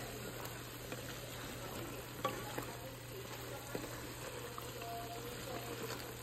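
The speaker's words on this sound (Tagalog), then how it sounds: "O, kumukulo na siya. Haluin na natin siya." Chicken adobo with chili peppers bubbling in a pot while being stirred, a soft steady simmer with occasional faint clinks of the utensil against the pot, low and even throughout with no talking.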